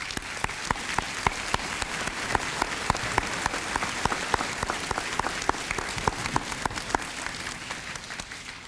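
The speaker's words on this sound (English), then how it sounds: "please give your faculty and parents a much-deserved round of applause" Graduation ceremony audience for a 1997 high school class applauding steadily, a dense wash of many hands clapping with sharp individual claps standing out, sustained at moderate volume throughout.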